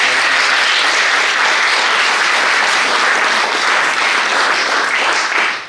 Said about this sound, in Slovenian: Mislim, da zaslužijo aplavz.